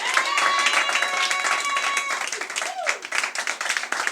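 A church congregation claps and cheers for Jesus Christ, a dense burst of hand claps and voices that is loudest at the start and thins out toward the end, with a high tonal sound running through the first half.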